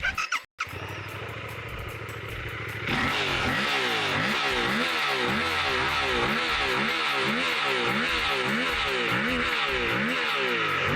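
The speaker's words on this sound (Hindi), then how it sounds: "बाइक का जो एग्जॉस्ट नोट है वो भी आपको एक बार मैं सुना देता हूं।" A Suzuki GSX-8R middleweight supersport motorcycle idles, then its engine is revved repeatedly in quick rising and falling surges, the exhaust note loud and close.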